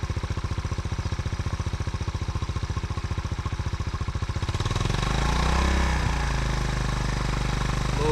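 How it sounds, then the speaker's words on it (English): A 1984 Honda CT-110 motorcycle engine runs close by with a fast, steady put-put idle pulse, then revs up around the midpoint into a louder, smoother sustained roar, with no one speaking. "Let's see if I can get this thing revved up a little bit"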